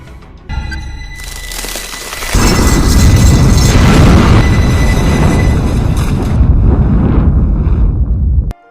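A bomb hidden inside a chicken detonates in a Donnie Yen police-versus-gangsters action film, a loud, sustained roaring blast with rumbling debris that swells after a sharper initial burst and holds for several seconds before cutting off.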